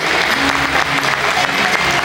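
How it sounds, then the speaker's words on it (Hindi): An audience at a Saraswati Puja celebration during a Vasant Mahotsav at Government Polytechnic Bhaga, Dhanbad, applauds A.B. Singh, and the dense, loud clapping fills the whole stretch without a break. "आप लोग जोरदार तालियों से तब तक तालियां बजाएं जब तक कोई स्वयं खड़ा होकर मना न करे।"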